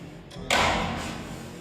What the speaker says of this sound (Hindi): गेट बंद होने की आवाज थी।